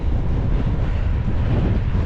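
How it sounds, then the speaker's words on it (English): A strong gust of wind buffets a cyclist riding on flat ground under a bright sky, a loud, continuous low roar of wind against the microphone filling the whole stretch. "you get a gust of wind that just blows you backwards"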